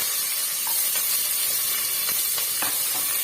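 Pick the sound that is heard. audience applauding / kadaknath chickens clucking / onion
onion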